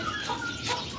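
Chickens kept together with doves in a backyard bird setup give soft, close clucks in a brief burst.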